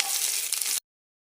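Onions and curry leaves sautéing in hot oil, with a steady, close hiss that cuts off abruptly after under a second.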